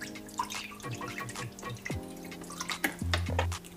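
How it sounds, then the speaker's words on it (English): Chicken stock poured into a measuring cup in a home kitchen while making sauce for chicken fried rice, heard as a close, steady trickle and drip of liquid with light clinks, no talking. "I'm measuring out 1/4 cup of chicken stock"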